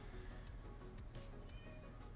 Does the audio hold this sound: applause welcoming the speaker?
no